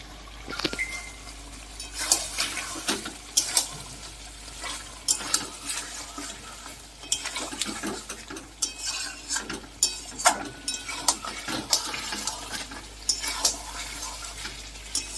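Chicken stir-fried in a pan with chilli powder, cumin paste and coriander paste for a Bengali yogurt chicken curry, with repeated scraping and stirring strokes of a spoon over a steady sizzle, close and fairly loud.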